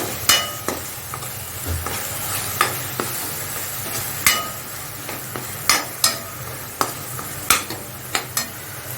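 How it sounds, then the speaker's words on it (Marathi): Onion, tomato and ground masala paste frying for a bhindi curry, stirred hard with a spoon that scrapes and knocks against the pan in irregular bursts over a continuous close sizzle. "आता वाटण टाकलं आपण आता छान परतून घेऊया"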